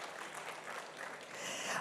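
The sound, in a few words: conference audience applause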